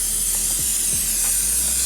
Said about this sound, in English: can't forget to spray the pan down.